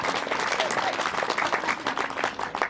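Audience applause at a Hindi religious discourse, steady dense clapping from many hands throughout, fairly loud and close with faint murmur mixed in.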